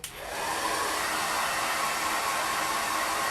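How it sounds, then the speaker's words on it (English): A handheld blow dryer runs close up, drying a sticky craft pumpkin truck. It gives a steady, loud whooshing roar that starts almost at once and holds without a break. "So I'm gonna use my handy dandy blow dryer."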